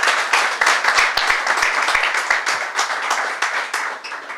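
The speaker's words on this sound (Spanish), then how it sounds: "Creo que se han ganado un aplauso" Close, fairly loud applause from a modest audience at a football discussion held in a book museum, with distinct individual claps at the start that blend into a steady patter and then gradually taper off.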